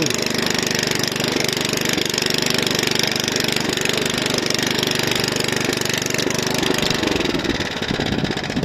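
An Oleo-Mac 155K motor cultivator tills between rows of pepper plants, its small engine roaring loudly and continuously up close with a rough, chugging texture throughout.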